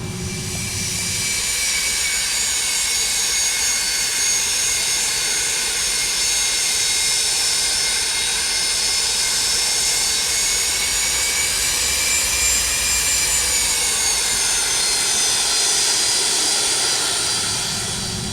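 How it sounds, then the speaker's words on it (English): Steady jet-engine whine of an MD-80's auxiliary power unit running after landing in the X-Plane flight simulator, a continuous loud tonal hum with layered high harmonics and a broad rumbling base, alone with no talking. "APU, yep, firing up nicely there."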